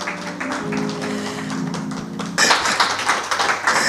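Applause from a church congregation bursting in suddenly after a stretch of speech and tones, dense clapping that holds loud and steady until the end.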